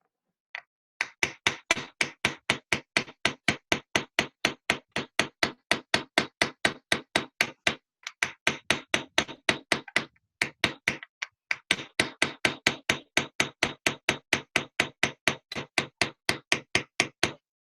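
Steady, rapid light hammer blows ringing on metal during repoussé work, dozens of evenly spaced strikes broken by two brief pauses, close and unaccompanied by talk.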